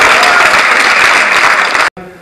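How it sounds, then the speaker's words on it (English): Audience applause at a stage magic show with a floating table act, loud, dense and steady for nearly two seconds before cutting off abruptly, followed by a quieter tail. "Give her a round of applause, ladies and gentlemen."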